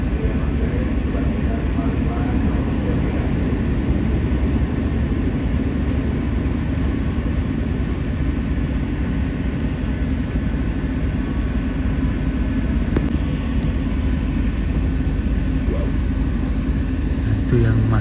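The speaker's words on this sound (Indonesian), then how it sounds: "Itu yang masuk di jalur 4, kereta yang RRC Sifang." A CRRC Sifang train rolling into a station on track 4, a loud steady rumble with faint squeals and a sharp click, continuing throughout under occasional talk.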